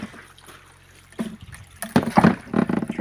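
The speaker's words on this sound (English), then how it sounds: "See if we can get it to recirculate some water here." A Powerjet conveyor dredge pump recirculates water in its own tank, with soft trickling and splashing that grows louder and more turbulent near the end as the flow picks up.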